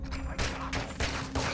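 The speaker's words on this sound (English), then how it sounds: "Gunfire alerted them." Gunfire in the Modern Warfare 2 campaign, Las Almas, Mexico: a series of loud, sharp bursts close together over about a second and a half, with no talking.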